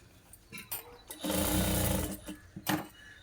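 A sewing machine with a normal presser foot stitches thread piping onto a blouse in one close, loud buzzing run of about a second, framed by softer clicks and handling noises.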